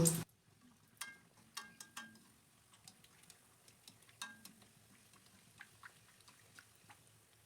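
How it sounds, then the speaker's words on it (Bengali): Luchi fries quietly in hot oil with scattered sharp pops and crackles at irregular intervals, after a brief loud clatter at the start. "আবার একটা আমি তেলের মধ্যে লুচি ছেড়ে দিলাম"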